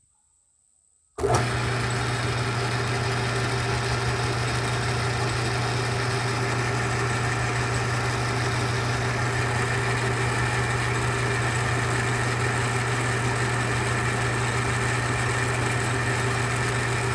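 A metal lathe machines a part for a Stihl 026 chainsaw build, a steady loud motor hum starting abruptly after a brief silence and running evenly throughout with no talk.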